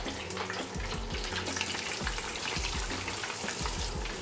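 Chicken breasts fry in hot oil for a spicy chicken sandwich, a steady close bubbling sizzle with some popping crackle throughout, no talk.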